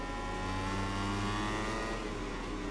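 A motorcycle engine in MotoGP 21 drones steadily under constant throttle on a worn rear tyre, a loud sustained tone with a slight pitch drift and no speech over it.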